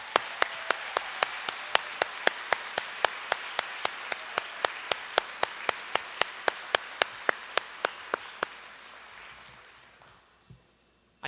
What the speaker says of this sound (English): how about a round of applause for our teachers?